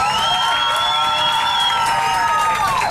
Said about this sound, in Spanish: Fuerte el aplauso a los que van por el número 1.